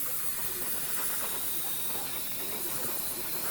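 MRP medium grey lacquer paint sprayed onto a 1/72 scale F-14 Tomcat model gives a steady, close airbrush hiss that runs unbroken throughout.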